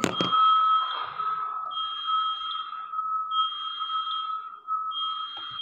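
A car's low radiator coolant warning chimes as a repeating electronic beep, steady high tones pulsing in several spaced bursts at moderate volume in an otherwise quiet interior.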